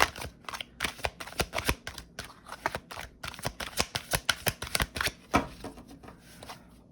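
A tarot card deck being shuffled makes a quick series of crisp, papery riffles and taps in an irregular rhythm, close and fairly quiet, with no voices.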